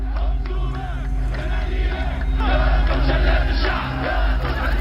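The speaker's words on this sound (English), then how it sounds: "You are witnessing the very first mass demonstration in the Tunisian capital since the unrest began." Large crowd at a mass demonstration in Tunis, Tunisia, yelling and chanting together in a loud, continuous roar of massed voices, with rising shouts over a steady low din.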